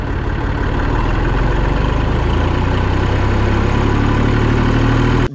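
An old farm tractor engine runs steadily at about 2000 rpm, a loud, close, continuous diesel throb that holds even until it cuts off abruptly at the end, with no talking.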